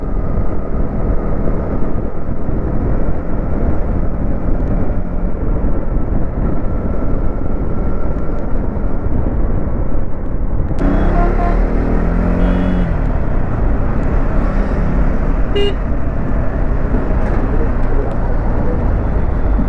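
Road traffic heard while motorbiking out of Delhi toward Jaipur: a loud, continuous rumble of engines and road noise, with a brighter burst of passing vehicles and hiss midway, and no talk.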